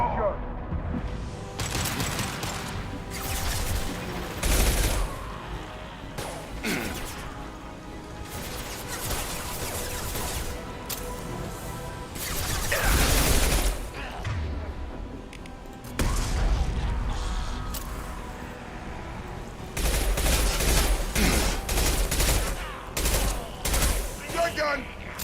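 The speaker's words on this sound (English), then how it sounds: "Firing an impact shot." Impact-shot gunfire rattles through Mass Effect 2 combat in loud, clustered volleys and rapid bursts, broken by short quieter gaps and crashing impacts.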